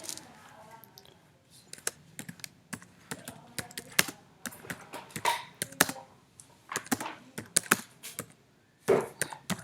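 Keys clatter on a MacBook keyboard in quick, uneven bursts of close, crisp clicks with short pauses, fairly quiet and with no talking over it.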